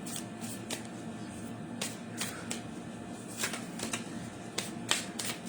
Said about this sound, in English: Okay, we're gonna shuffle right now.